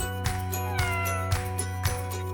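Regular short Birman cat meows ring out over a low droning musical backdrop, evenly spaced and fairly close.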